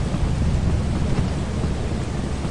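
Thunderstorm in the Lethal Company video game, a dense, loud rumble of thunder blended with rain hiss and low wind, sustained without pause and no voices over it.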